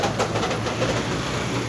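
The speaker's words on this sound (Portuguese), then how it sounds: "E a zoada também desses carros também, viu?" Steady broadband roar of road traffic, cars passing continuously at moderate distance with no clear individual pass-bys and no voices.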